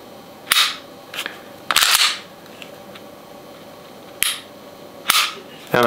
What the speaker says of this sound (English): That break is crisp and hard, and the reset is also very crisp, tactile. You can hear it